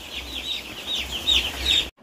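Chickens cluck and murmur close by, a steady stream of overlapping calls rising in a few louder squawks before cutting off abruptly.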